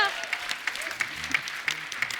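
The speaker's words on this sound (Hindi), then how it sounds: "एक बार दादियों के लिए तालियां बजा दो" A studio audience on a comedy talk show claps for the grandmothers, a brief round of applause with a few sharper claps heard over faint background voices.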